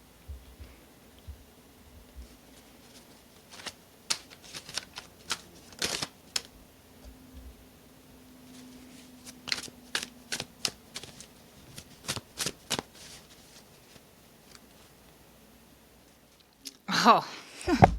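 A deck of tarot cards being shuffled close by, in repeated quick riffling bursts separated by short pauses, ending in a louder flurry of card handling.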